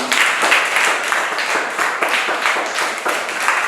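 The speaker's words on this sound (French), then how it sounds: "Applaudissez pour elle aussi." Classroom applause for a student, a short burst of brisk clapping from a group of children, loud and close with steady rapid claps throughout.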